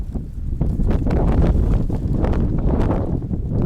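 Strong wind buffets the microphone on a mountain of the Glyders range in Wales, a steady, loud, broadband roar that rises and falls slightly throughout with no letup.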